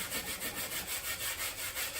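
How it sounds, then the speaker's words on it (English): Sandpaper is rubbed back and forth on the legs of a wooden chair being prepared for chalk paint, giving close, even rasping strokes in a quick regular rhythm, about four per second, with no talk. "So I'm giving the legs a little more hit with the sandpaper than I will anything else"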